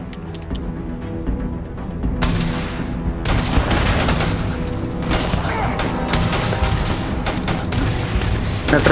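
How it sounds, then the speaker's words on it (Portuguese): Machine-gun fire in Starfield comes as dense, loud bursts of rapid shots with booming impacts, nearly continuous for several seconds. It is close and heavy, with some faint voices underneath. "Metralhadora."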